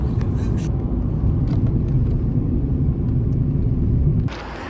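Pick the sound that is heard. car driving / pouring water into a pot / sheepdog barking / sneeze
car driving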